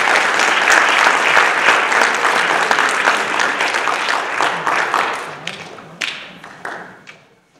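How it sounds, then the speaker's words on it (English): An audience claps for a youth music program and its students, loud sustained clapping that tapers into a few scattered claps at the end. "a big round of applause for our amazing students and our amazing program"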